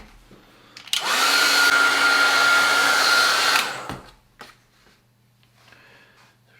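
Hair dryer switched on to dry a watercolour painting, a loud steady whir lasting about three seconds before it clicks off, followed by faint rustling.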